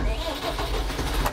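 Perkins diesel engine of a Farmtrac 675DT tractor, 75 horsepower, running steadily at close range with a low rumble and faint pulsing throughout, with no speech over it.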